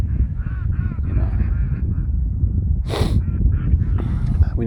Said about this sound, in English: We need to feed the ducks too.